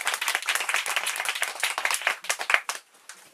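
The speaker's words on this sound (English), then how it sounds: "Thank you very much for your applause." Applause from an audience after a reading: a burst of close, dense hand clapping that thins out and stops near the end, leaving a short quiet tail.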